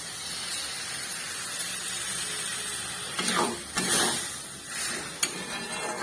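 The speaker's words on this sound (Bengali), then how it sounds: "এবার এর মধ্যে আমি এই বাটি ধোয়া জলটা দিয়ে দেবো।" Water is poured into a hot pan of chilli chicken sauce, setting off a sudden hissing sizzle and bubbling partway through that comes in a few surges after a quieter stretch of background kitchen noise.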